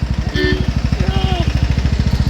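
Motorcycle engine running steadily during a night ride near Tenkasi, a loud, close, regular chugging pulse throughout with brief voices over it.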